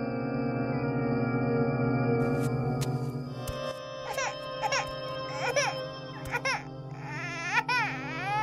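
An infant cries loudly in a Hindi horror story, a sustained wailing that breaks into repeated rising sobbing cries, heard alone and close without speech.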